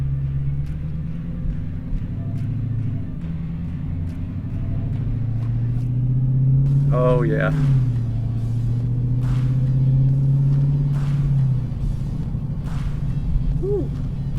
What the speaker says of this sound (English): there's a lot more crackles coming from the exhaust